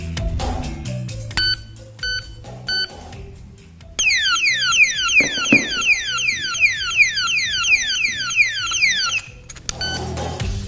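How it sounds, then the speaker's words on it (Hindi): A piercing 110-decibel door lock alarm blares in rapid, warbling sweeps for several seconds, loud and close, after a stretch of short beeps. "के लिए हम लाए हैं एक ऐसा लॉक जिसमें है 110 डेसिबल का अलार्म"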